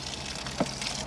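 Water is tipped out of a motorhome toilet cassette at a waste disposal point, a short gush and splash peaking briefly mid-way.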